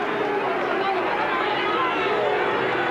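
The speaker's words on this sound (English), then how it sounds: "Well, still a very involved crowd." Loud, steady crowd noise from spectators at a 2000 WAFL Australian football match, a continuous roar of babble and cheering with commentary voices over it.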